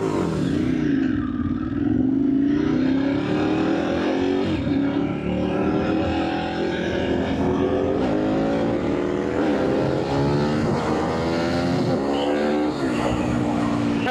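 A supercharged Harley motorcycle engine revs hard with a loud, rising roar that climbs and drops through gear changes. It is heard close and continuous, with a supercharger whine over the engine note.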